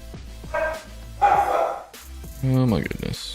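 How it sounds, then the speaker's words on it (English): An upset dog barks in short, sharp bursts, three or four close yelps and barks spread over a few seconds, with some whining pitch between them. "Dog is upset."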